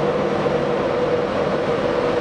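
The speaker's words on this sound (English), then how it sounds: "this will be my train" A passenger train at Doncaster station, a steady rumbling drone with a low hum running on without a break, close and loud, with no talking.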